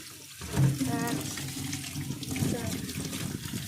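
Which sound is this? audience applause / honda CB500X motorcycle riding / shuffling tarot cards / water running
water running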